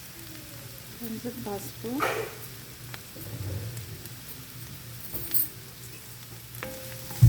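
Sliced onions frying in oil for an onion pakoda curry, a soft crackling sizzle with spatula scrapes and stirring bursts, while a voice briefly speaks over it.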